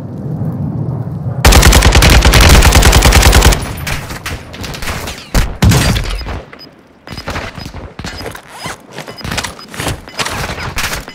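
Loud, sustained automatic gunfire rattles in a dense burst, followed by scattered single shots and short volleys, sharp and close, with combat noise from the video game Call of Duty: Modern Warfare II Warzone.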